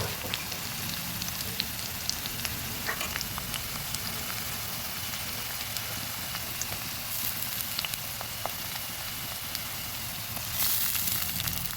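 Whole spices crackle in hot oil for a country chicken and potato curry, a dense steady sizzle with scattered pops, close and even throughout, growing a little brighter near the end.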